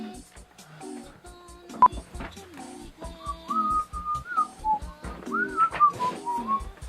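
A person whistles the A Bug's Life song close up, a bright wavering melody of short and held notes, with some soft background sounds.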